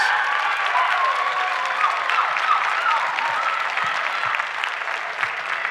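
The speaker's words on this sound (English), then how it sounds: "let's give these young students a round of applause?" A crowd claps steadily and continuously for students at a musical showcase, a dense wash of applause from a large audience that holds at an even level throughout.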